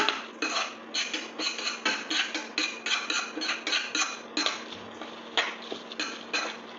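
Saffron pulao rice being tossed and stirred in a metal pan over low to medium flame, a rhythmic run of scraping, clinking strokes repeating roughly every half second, close and steady with no talking.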